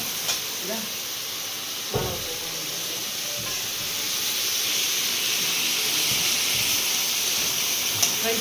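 Steady frying sizzle and hiss as ridge gourd fries in a pan, growing slightly louder midway, with a couple of sharp clinks from a utensil against the pan.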